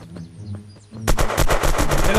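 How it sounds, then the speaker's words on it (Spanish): Rapid automatic gunfire in the online shooter Unturned, loud and close, a fast burst of shots erupting after a quieter stretch with faint earlier pops. "¡Se están agarrando a balazos al lado mío!"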